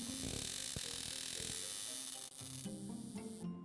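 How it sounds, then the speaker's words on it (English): A harsh electric buzzing from a stun gun held against a patch of grapes crackles continuously at close range, shifting in texture, with a brief dropout near the end. "they settled on putting a stun gun up to a patch of grapes"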